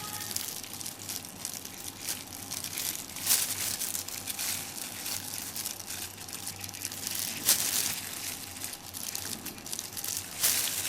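Kitchen scissors snip the dirty dark parts off a fresh abalone: a few sharp, separate cuts over steady wet crinkling and handling noise.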